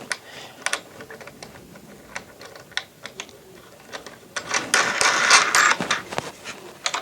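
Black knobs with fender washers being tightened by hand onto table legs: a run of small mechanical clicks and ratcheting taps, then a denser, louder stretch of scraping and clicking near the end, close by with no talk.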